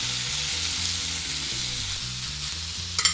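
Steak and onions sizzling in a hot pan, a constant bright frying hiss with a low rhythmic hum beneath, ending in a couple of sharp clinks near the end.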